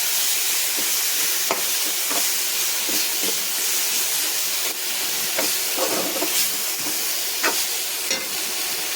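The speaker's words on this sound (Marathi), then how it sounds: "आता याला तेल थोडीपर्यंत चांगला भुनून घ्यायचा" Tomato fries in oil in a pan with a continuous close sizzle and hiss, broken by repeated scraping stir strokes throughout.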